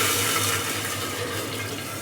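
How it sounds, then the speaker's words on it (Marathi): Six bowls of water pouring steadily into a cooking pot for rajma chawal rice, a continuous rushing splash that eases slightly toward the end, close and alone. "ते पाणी आता ह्याच्यात टाकून द्यायचं"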